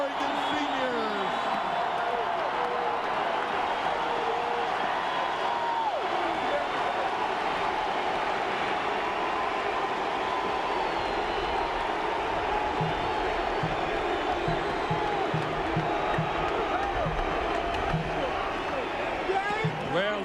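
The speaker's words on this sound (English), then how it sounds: "they should applaud that kid" A stadium crowd at a college football game cheers and applauds as Oregon senior quarterback Joey Harrington is introduced, a dense, continuous roar that fills the whole stretch with an announcer's voice over it.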